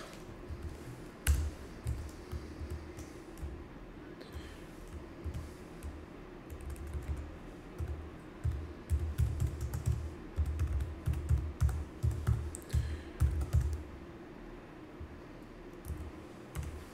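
Quiet, steady typing on a computer keyboard, with rapid clusters of soft key clicks and a few sharper taps, close and alone for a long stretch without any talking.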